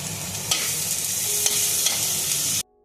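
Tomato, onion and garlic fry with a little salt in a hot pan, a close, steady sizzle broken by a few light stirring scrapes before it cuts off abruptly near the end.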